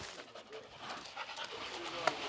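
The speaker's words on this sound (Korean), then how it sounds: "우리 인플루언서 댕댕이 씨 올라가세요." A large dog pants quickly and rhythmically before its bath, fairly close but soft, with a brief whimper near the end and faint background noise.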